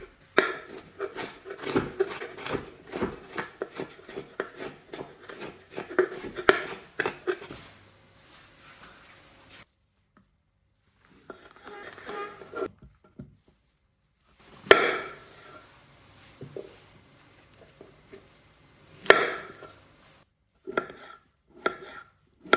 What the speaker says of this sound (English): start chopping up 1 large onion, about 3 or 4 mushrooms, and 1 red and 1 green bell pepper